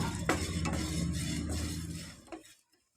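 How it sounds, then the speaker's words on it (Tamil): A steady frying sizzle and stirring scrape as spices and curry leaves roast in a pan for Kerala-style egg roast, close and fairly loud, fading out abruptly near the end. "இதையும் சேர்த்து நம்ம நல்லா வறுத்து எடுத்துக்கலாம்."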